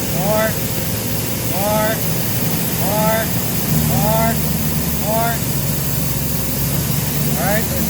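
A Nissan TB45 engine runs with severe low power as its RPM is slowly raised, a steady mid-level drone that shifts slightly partway through, with bird chirps repeating clearly over it.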